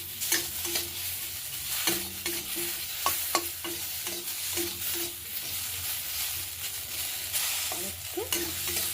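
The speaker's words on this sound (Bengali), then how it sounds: "দেখো আমাদের আলুটা ভাজা ভাজা হয়ে এসেছে" Potatoes fry in a pan with a steady soft sizzle, broken by repeated clinks and scrapes of stirring at an uneven rhythm, close and fairly quiet.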